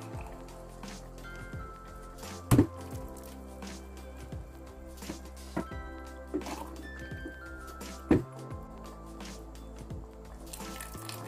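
Water for a pilaf is poured into a salted pot. It comes as a soft, low trickle and dribble with a few faint drips and light clinks, fairly quiet throughout.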